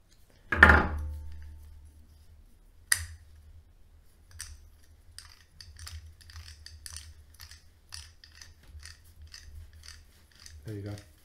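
A tin can opener being twisted and operated, first a loud metallic clack, then a faint series of small rhythmic clicks and ratcheting turns, close and quiet.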